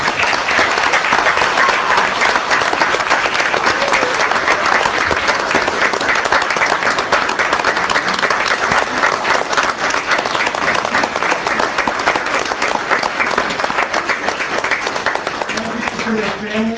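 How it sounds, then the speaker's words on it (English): An audience at a police ceremony applauds in a dense, sustained wash of clapping that stays steady and loud from start to finish. "they deserve a round of applause for outstanding performance"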